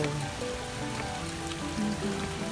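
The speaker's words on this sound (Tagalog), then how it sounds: "Ulan na naman dito." Steady rain pours down outdoors on a wet day, a dense continuous patter of drops on surfaces, loud and even throughout with no voices.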